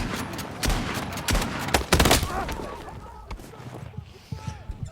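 A shotgun fires in a video game, several sharp, loud blasts in irregular succession that fade into quieter battlefield noise, with a voice talking intermittently underneath.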